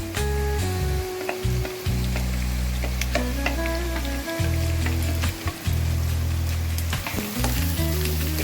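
Mashed boiled potatoes frying with onion and green chili in a kadai for a dhaba-style aloo paratha filling: a loud, steady sizzle broken by short gaps and scrapes of stirring, with no talking.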